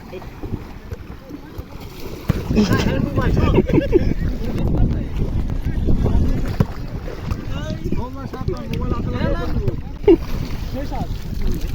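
A boat moves across water and pulls in to the shore, its rumble and splashing mixed with heavy wind buffeting the microphone while people talk throughout.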